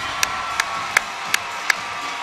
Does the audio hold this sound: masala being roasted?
no